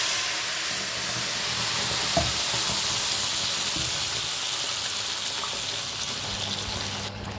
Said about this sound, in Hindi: अभी इसको हम भूनेंगे अच्छे से।